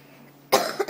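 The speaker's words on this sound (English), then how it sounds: "I coughed." A single sharp cough from a player during an online Black Ops match, close and abrupt after a quiet moment, with a short second burst following.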